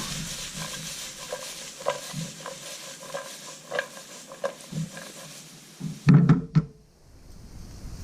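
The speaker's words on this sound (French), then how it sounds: "verser les oignons, l'ail et les échalotes dans votre poêle. Et faire revenir le tout." Onions, garlic and shallots sautéing in a frying pan for piperade, a soft sizzle under repeated spoon scrapes and taps against the pan, ending in a louder clatter of cookware.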